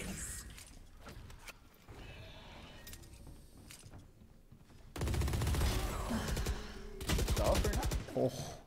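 Bursts of rapid gunfire from a competitive tactical shooter game, a few scattered shots early then two loud sustained fusillades in the second half, with faint game background between.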